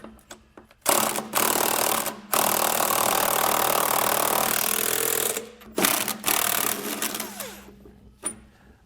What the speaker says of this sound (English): To tighten these down, I got a 15/16 size socket and wrench.